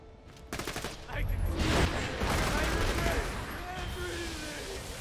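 Rapid bursts of gunfire in the shooter Borderlands, with Maya firing a Kerblaster during a boss fight, a dense rattling volley at moderate level mixed under game voices and effects.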